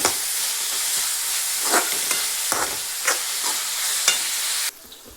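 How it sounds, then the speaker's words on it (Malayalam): Sliced onions sautéing in a pan with a little salt, a steady close sizzle with scraping stir strokes at intervals before the hiss drops away near the end. "സവോള ഒന്ന് വഴന്ന് കിട്ടാനായിട്ട് കുറച്ച് മാത്രം ഉപ്പിട്ട് കൊടുക്കുക"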